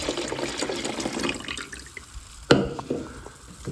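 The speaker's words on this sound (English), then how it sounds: "you're simply going to fill it up with some water." Tap water pours steadily into an ice machine holding a cleaning tablet, a continuous close running splash that eases off midway before a sharp clunk and a few lighter splashes.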